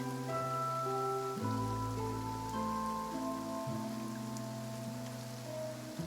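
Steady rain pours in Fontaine in the Genshin Impact video game, a constant soft patter filling the scene while sustained tonal music plays over it, with no talking.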